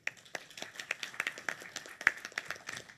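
Applause from a plenary session audience greeting the session chair, a sparse scattering of individual claps with distinct separate hits rather than a dense roar, fairly quiet and uneven in rhythm.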